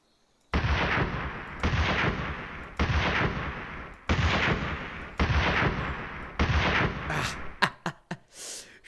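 Rifle gunfire in the Dino World video game: six loud, evenly spaced shots, each trailing off into a long reverberant decay, followed by a few short sharp sounds.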